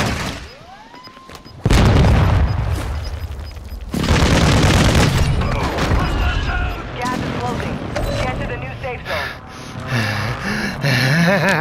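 Airstrike explosions in a shooter video game land as heavy, close booms and rumbling blasts, the first hitting suddenly after a quieter stretch, with game sounds and a voice around them.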